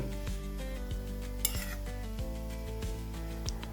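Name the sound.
frying and stirring grated carrot in ghee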